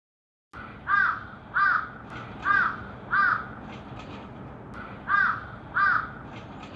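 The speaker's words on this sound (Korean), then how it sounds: "까마귀 날자 쓰레기 떨어진다" Crows caw repeatedly on a town street, six loud harsh calls in two groups, the first four evenly spaced and the last two after a short pause, over a low steady background of outdoor noise.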